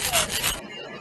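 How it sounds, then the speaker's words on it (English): A short, rough rasping scrape like a saw stroke in Minecraft, loud and close, lasting about half a second before cutting off to near quiet. "What is that? You're sawing?"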